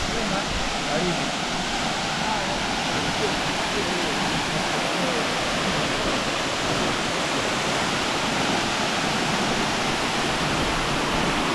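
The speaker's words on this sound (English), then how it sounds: "The Choma Falls is one of the stunning beauty of Morogoro." Choma Waterfall in Morogoro, Tanzania, roars loud and close, a dense unbroken rush of falling water that fills the whole clip.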